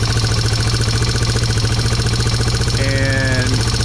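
A Yamaha TW200 motorcycle engine idles steadily close by with an even, rapid thumping pulse, after a fuel-leak fix on a carburetor whose bowl kept draining; a brief higher whine rises near the end.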